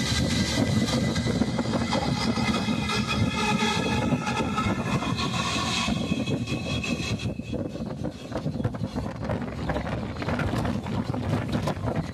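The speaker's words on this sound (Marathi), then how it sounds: "ढोकरी रेल्वे स्टेशन येथे ही पुणे हरंगुळ एक्सप्रेस येथे थांबलेली आहे आणि या गाडीला आपण क्रॉस करून पुढे जात आहोत" A passenger train runs past the halted Pune–Harangul Express at Dhokri station in heavy rain, giving a loud, steady rumble and clatter of wheels and wagons that continues throughout with no pauses.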